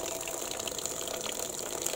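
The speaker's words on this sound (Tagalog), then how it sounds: "so magbuhos ka muna ng tubig" Water pours steadily into a basin for hand-washing laundry, a continuous close splashing rush that holds at an even level for the whole two seconds with no voices.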